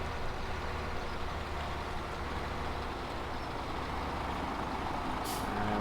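A lorry in the Farming Simulator 17 game rumbles steadily close by at a constant loud level, and a short airy hiss near the end suggests its air brakes releasing.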